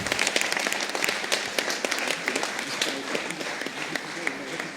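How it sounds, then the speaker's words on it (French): A municipal council meeting audience applauding a newly named deputy, a crowd of hands clapping in a continuous patter with some louder individual claps, voices faintly mixed in. "On peut applaudir Didier."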